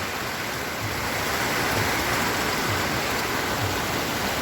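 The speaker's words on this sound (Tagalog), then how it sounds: "lakas ng ulan" Downpour falling hard on a garden of vegetable plants and trees, a constant loud wash of rain noise with no pauses and no speech.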